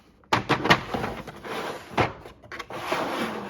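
A drawer on a Craftsman or Husky mechanic's tool chest slides open with metallic rattles and clunks, close by, followed by a few more sliding scrapes.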